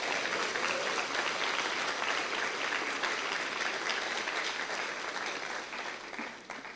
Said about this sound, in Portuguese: Então aplauda ao Senhor e diga glória a Deus.